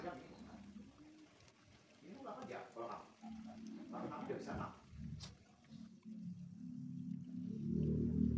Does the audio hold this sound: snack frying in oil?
yes